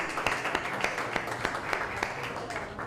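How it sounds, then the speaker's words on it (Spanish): Applause for a commissioner in a formal committee session, a room of people clapping steadily with several distinct close claps punctuating the wash, moderate level and sustained. "le damos un aplauso por su extraordinaria participación"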